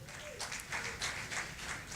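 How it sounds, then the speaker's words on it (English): Audience applause for a production crew at an East African music awards stage event, a steady wash of clapping lasting throughout with pulsing swells, heard from within a crowded hall. "A round of applause for them."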